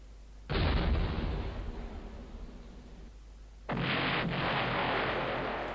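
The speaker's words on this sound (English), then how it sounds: "Alright, time to shoot downrange." Two musket volleys ring out in Battleground: Antietam, each a sudden loud crash that decays into a long rolling rumble, about three seconds apart, with no voices.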